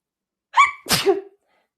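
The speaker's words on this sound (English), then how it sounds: "I have to sneeze" One sharp, close sneeze with a quick intake before it, then silence.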